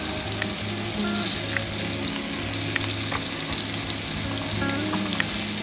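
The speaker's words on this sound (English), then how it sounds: "we're going to brown up the meat in this Dutch oven" Venison pieces browning in lard in a Dutch oven make a loud, continuous, dense sizzle up close that holds evenly throughout, with faint stirring sounds and no voices.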